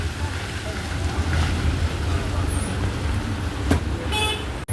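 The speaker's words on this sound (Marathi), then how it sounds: "फुल ट्रॉफिक आहे जाम झालं थोडं" Traffic jam on a rain-wet road just after a shower, with a steady roar of engines and road noise close by and a short horn toot breaking through near the end.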